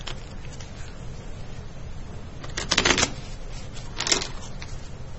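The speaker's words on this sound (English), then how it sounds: "I'll do a quick shuffle." A stack of playing cards being shuffled in a classroom, a couple of brief riffling bursts of fluttering card noise over a steady background hiss.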